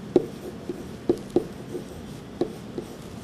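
A pen writes on a whiteboard in a database lab class, giving a few sparse, faint taps and short scratchy strokes at irregular intervals over a quiet room.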